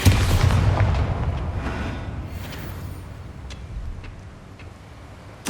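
The Bombarda blast spell from Hogwarts Legacy goes off in a heavy, rumbling explosion that decays into debris crackle and ticking, followed by another deep boom at the end.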